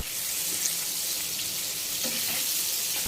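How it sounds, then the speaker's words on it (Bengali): Chopped onion softening in hot oil for a pumpkin-greens and fish-head curry, giving a steady, even sizzle that stays close and continuous throughout with no talking. "1/3 কাপ মতো আমি পেঁয়াজ কুচি দিয়ে দিয়েছি, আর পেঁয়াজটা আমি একটু হালকা নরম করে ভেজে নিয়েছি।"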